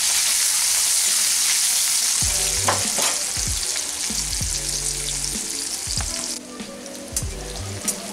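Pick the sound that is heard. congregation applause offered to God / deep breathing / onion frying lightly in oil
onion frying lightly in oil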